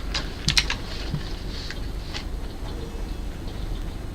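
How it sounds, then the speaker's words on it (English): Sparse computer keyboard clicks from a gaming stream: a quick cluster of sharp taps near the start, then a few fainter isolated clicks over a quiet background hiss. "It's just keyboard clicking"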